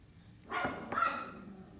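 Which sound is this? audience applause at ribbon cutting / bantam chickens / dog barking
dog barking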